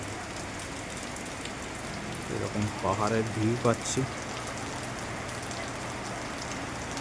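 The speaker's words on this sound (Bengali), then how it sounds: "এখন তো এখানে বৃষ্টি হচ্ছে" Heavy rain pours steadily at a hill guest house with a wooden balcony facing the mountains, a dense constant hiss throughout, with a person briefly speaking over it midway.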